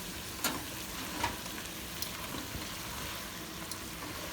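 Braised beef sauce with wine being stirred in a pan, with a steady soft sizzle and occasional faint scraping clicks of the spoon across the sides, close and continuous with no talk.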